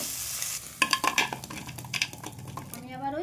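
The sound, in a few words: crabs frying in a pan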